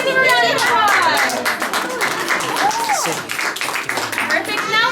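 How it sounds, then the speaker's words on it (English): An audience claps along at a Disney World show, lively, fairly close applause mixed with children's voices and chatter, with whoops rising over the clapping. "Give them a round of applause"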